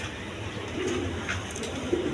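Pigeons coo softly in a loft, two low, brief murmuring calls over a faint background hum, fairly quiet and without speech.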